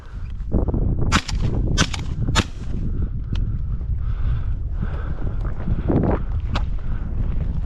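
Gunshots ring out during a rainy dove hunt in Montana: three sharp cracks in quick succession, then fainter bangs, over steady wind and rain noise.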